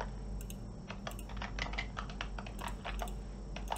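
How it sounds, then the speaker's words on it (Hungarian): A man's keyboard clicks ring out loudly and rapidly in irregular bursts of sharp taps, close and prominent over a steady low hum, with no one talking. "Közben egy úr kattintásai elég hangosan hallatszanak."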